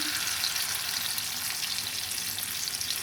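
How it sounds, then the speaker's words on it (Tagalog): Egg and eggplant sizzle in a pan for a Filipino tortang talong, a steady close crackling fry that holds an even loudness throughout. "lagay na po natin sa kawali at lutuin lang po natin"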